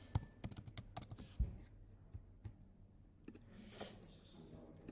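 Text is typed into a Canva design on a computer keyboard, with a fast burst of close, crisp key clicks at the start followed by sparser taps and a soft swish, at a quiet level.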